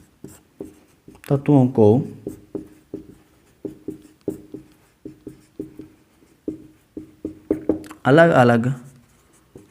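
A teacher's chalk or marker taps and strokes on a board during a class 11 chemistry lesson, short scratchy bursts in an irregular rhythm, with the teacher's voice speaking between and over the writing.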